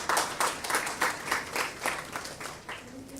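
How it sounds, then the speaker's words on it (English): A room of people claps in rhythmic, fairly loud applause that swells in waves and then begins to taper off. "Please give her a round of applause."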